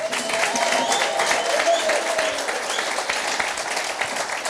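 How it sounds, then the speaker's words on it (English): Dense applause from an audience at a brand and marketing talk, steady continuous clapping filling the room at close range, with a few faint voices mixed in. "Let's clap it up for them for bringing us here."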